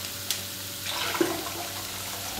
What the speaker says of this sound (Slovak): Medzi tým si scedíme hrybiky